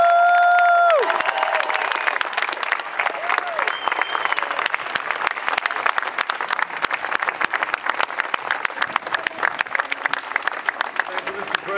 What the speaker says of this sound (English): Give the New York Giants a big round of applause.